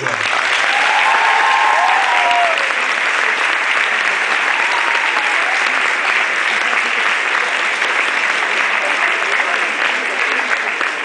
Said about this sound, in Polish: Brawa dla tego pana i dla tego księdza.